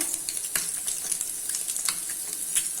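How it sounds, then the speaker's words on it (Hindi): Pieces of egg sprinkled with red chili powder fry over medium flame on a tawa, a steady close sizzle with faint crackles throughout and no talking. "अंडे को एक साइड से मीडियम फ्लेम पे 2 मिनट तक फ्राई कर लेना है"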